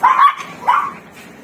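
Pet dogs, including Pembroke Welsh corgis, bark in two close, loud bursts at home, the first yappy and doubled, the second shorter, then fading into quiet room noise.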